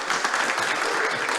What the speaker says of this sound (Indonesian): Kita tepuk tangan dulu buat Amikom.